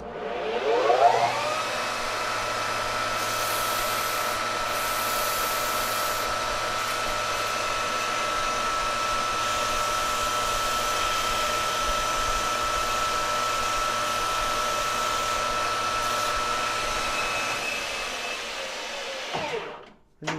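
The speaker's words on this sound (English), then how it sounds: "Now what we're going to do is we're going to sand this down" Wooden peg for an Amberola A-1 phonograph cabinet sanded on a power sander, a steady loud whirring drone that runs unbroken for about twenty seconds before spinning down.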